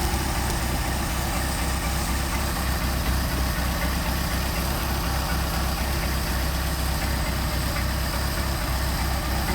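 A Mercedes 190SL engine fitted with Solex carburetors idles at around 825 RPM, giving a loud, steady, low rumble with an even pulsing beat that holds throughout, close up and with no voices.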